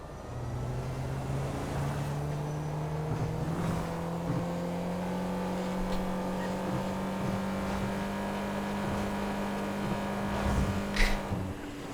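A video game car engine in GTA 5 Online hums steadily at a fairly constant pitch, as if with one gear, rising slightly in places, with a few faint clicks and a brief burst near the end.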